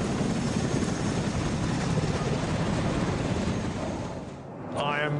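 Military helicopters, Apache attack helicopters, flying overhead in Afghanistan, a loud continuous rotor and engine roar that eases briefly near the end, with a short burst of speech-like sound as it ends.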